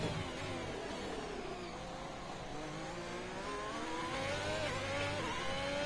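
Virtual Formula racing cars in a league race at Portugal, engines screaming and whirring as they overtake, dense continuous high-revving drone with shifting pitch from several cars close together.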